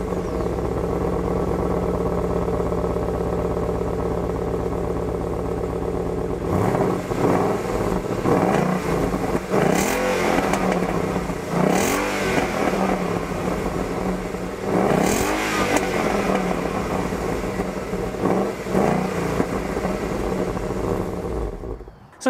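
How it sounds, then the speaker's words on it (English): A 2017 Ford Mustang GT with the 5.0 V8 idles with a low, close exhaust burble, then is revved several times in sharp, loud bursts that rise and fall back to idle. "what kind of review would this be if we didn't give you an exhaust clip?"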